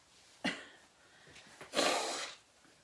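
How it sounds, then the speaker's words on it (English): A person blowing their nose, a short sharp burst followed by a longer, louder rushing blow about a second later, close and alone with no talk. "I'm gonna have to blow my nose, guys."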